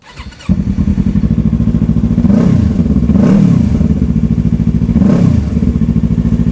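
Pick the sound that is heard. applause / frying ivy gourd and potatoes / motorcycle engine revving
motorcycle engine revving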